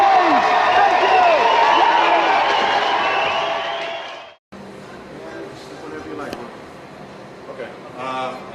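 A live audience cheers and applauds for Sonya and Johnny Cage at a Mortal Kombat promotional event, with loud crowd noise and whoops that fade out, then give way to quieter room sound with some talking.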